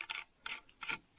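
A nut spun onto a long bolt by hand, giving four short metallic ratcheting bursts in a steady rhythm, close and fairly quiet, with no talking.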